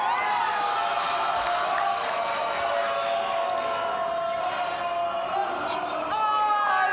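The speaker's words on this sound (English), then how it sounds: "And we're getting that crowd noise here." Crowd cheering and roaring at the Classic Tetris World Championship, a sustained loud wash of voices with rising whoops near the end, with a commentator talking over it.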